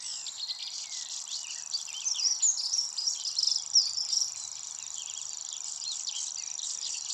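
A Grasshopper Warbler delivers its continuous, insect-like reeling song, a steady high mechanical trill like a cricket, sustained throughout at moderate distance, with fainter bird calls mixed in and no talking.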